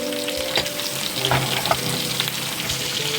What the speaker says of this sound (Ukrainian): Ось так перемішали чесничок з перчиком і виключаємо